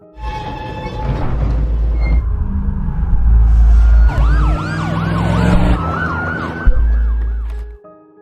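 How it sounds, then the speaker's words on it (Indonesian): A police siren wails loudly and close, its rising and falling tones sweeping over a rumbling vehicle engine and growing stronger before cutting off near the end. "terdengar suara sirine polisi mendekat"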